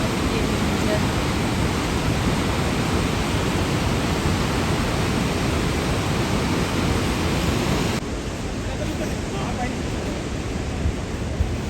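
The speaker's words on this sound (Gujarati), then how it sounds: "જો કેટલા અવાજ સાથે સરસ્વતી દેવીનો પ્રવાહ આવે છે" Loud, steady rushing water of the Saraswati River near Mana village, Uttarakhand, roars continuously and close, a dense unbroken wash of noise that dips slightly partway through.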